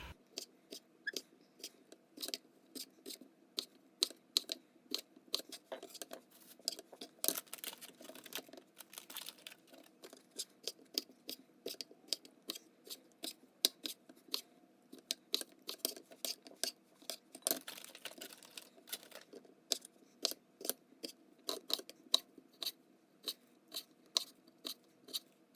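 Collard greens for sukuma wiki being cut by hand with a knife, making a long run of quick, crisp, close taps and slices in an uneven steady rhythm, quiet against a faint low hum.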